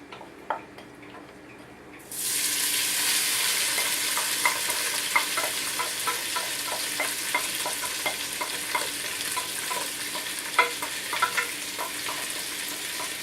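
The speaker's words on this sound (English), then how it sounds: "Give it a good stir. And I'm going to go in first with the bacon vegetable mixture." A bacon and vegetable mixture for curry noodles hits a hot wok and erupts into a loud, continuous sizzle, with regular clicks and scrapes of stirring throughout and no voices.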